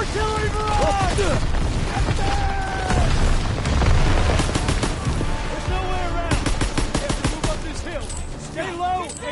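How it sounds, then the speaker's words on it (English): Artillery barrage and gunfire in the Call of Duty WWII video game: dense booms and explosions with rapid bursts of machine-gun fire, loud and continuous, with shouted voices mixed in. "Artillery barrage!"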